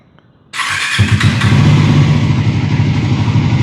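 A Triumph Tracker 400 motorcycle fires up abruptly after a brief quiet moment, then settles into a loud, steady, close thumping exhaust idle that continues to the end.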